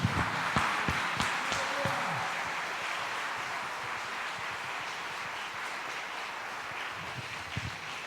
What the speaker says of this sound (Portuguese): porque é a Ti que nós aplaudimos em nome de Jesus